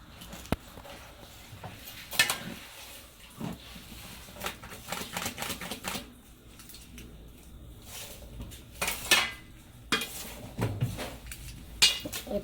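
Homemade pizza being cut in its pan, scattered metallic scrapes and clinks of a cutter or knife against the pan, irregular and close, with quiet gaps between strokes and no talking.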